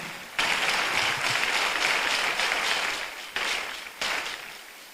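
A church congregation breaks into loud, sustained applause, a dense wash of clapping that swells in fresh bursts twice before tapering off.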